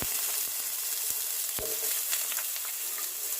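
Vegetables, including cut potatoes, frying in a pan with very little oil for neem shukto make a loud, dense, continuous sizzle, with a few faint scraping knocks of stirring and no talking.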